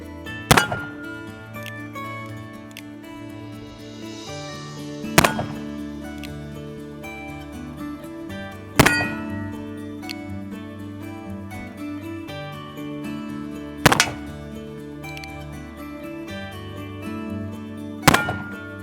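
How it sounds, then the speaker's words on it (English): An Uberti Remington New Model Army black powder revolver, fired with CCI No. 10 caps and Blackie's gun butter, lets off five sharp, loud shots spaced several seconds apart over a steady tonal hum. "Cylinder number 2 using Blackie's gun butter and CCI number 10"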